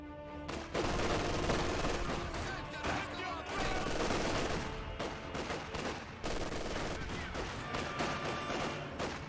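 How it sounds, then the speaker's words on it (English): Mortar shells and gunfire crashing in a Company of Heroes 2 battle, dense repeated explosions and rattling shots overlapping continuously at steady loudness. "More mortar hits here."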